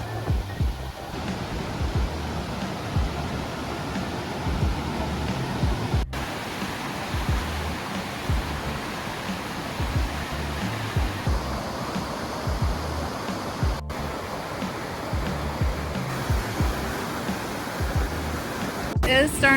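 Steady broadband roar of whitewater rapids on a river in Cherokee National Forest, continuous and fairly close, with no distinct breaks apart from a few brief clicks.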